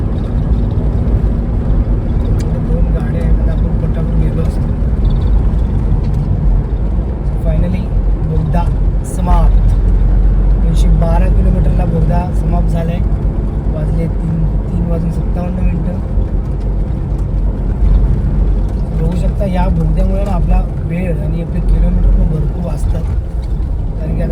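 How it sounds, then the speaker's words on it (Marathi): An Innova car drives through the Kashedi tunnel on the Mumbai–Konkan route, its engine and road noise a constant loud enclosed drone with faint passing traffic throughout. "कशेडी बोगद्यामधून प्रवास करत आहे"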